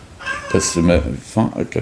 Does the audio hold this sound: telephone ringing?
no